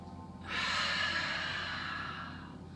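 A single long, deep breath drawn in during a slow yoga flow, a broad airy rush that rises after a brief quiet start and holds steady for about two seconds, close and soft.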